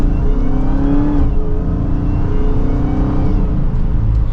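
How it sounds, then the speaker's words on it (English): A 2023 Dodge Charger SRT Hellcat Widebody Jailbreak with a supercharged V8 accelerates in second gear, its loud, steady engine drone carrying a rising supercharger whine and some exhaust note for several seconds. "you can hear some of that supercharger whine, a little bit of the exhaust"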